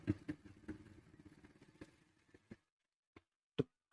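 A sewing machine runs stitching a single layer of thin fabric, a rapid close mechanical clatter lasting about two and a half seconds before stopping, then a few isolated clicks.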